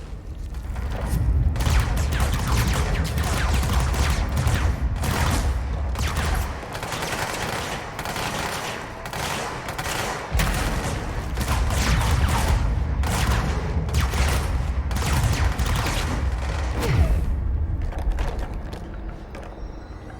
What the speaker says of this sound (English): they can only shoot in one direction apparently